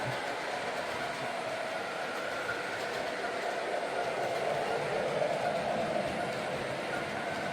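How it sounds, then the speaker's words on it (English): An MTH RF&P switcher model train runs around its track, a steady close rolling rumble and hiss of small wheels on rails, continuous throughout and without talk. "our little RF&P switcher is headed on around the track"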